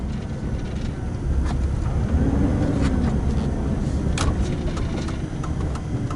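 A 2007 Chevy Silverado 2500HD with the 6.0 engine cruises through town, its low steady rumble and road noise heard from inside the cab, swelling slightly midway and staying even, with no voices.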